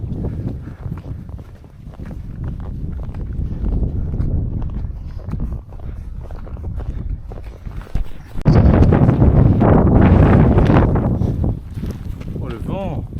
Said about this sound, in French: Oh le vent.